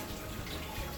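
Tap water runs in a steady, soft stream while a habanero pepper is rinsed under it, a brief faint splashing with no voices.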